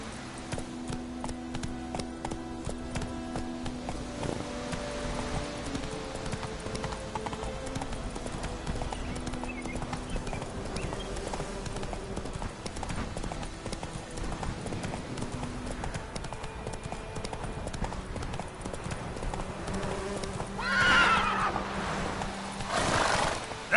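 Roach the horse in The Witcher 3 game trots with continuous clip-clop hooves over background music, followed by a loud neigh near the end, with brief speech.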